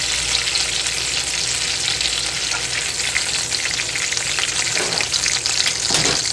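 Chicken breasts sear in a hot frying pan with a loud, steady sizzle throughout, a few brief clinks or shuffles near the end and no talking.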